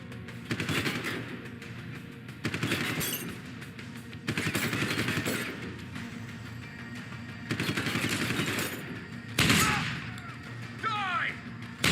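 Suppression gunfire in Deus Ex: Human Revolution Director's Cut: repeated bursts of rapid automatic fire in several clusters, loud and close, with shouting voices mixed in between volleys.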